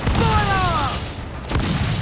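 Cannon fire in Assassin's Creed IV Black Flag, a deep, loud boom that rolls on with a crashing tail, followed by a second heavy blast about a second and a half later amid the din of a naval battle.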